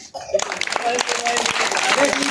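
Village crowd gathered around a travelling madari street performer breaks into clapping after a brief pause, sustained and fairly close, mixed with crowd voices.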